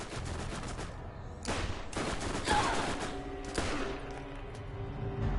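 Sustained video game gunfire, rapid automatic bursts layered with heavier booms, fairly loud and continuous over a steady backdrop.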